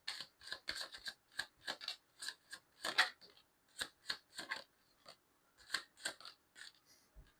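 Tarot cards are shuffled and drawn in a long run of crisp, papery riffles and snaps. The sound is close and quiet, with brief pauses between bursts.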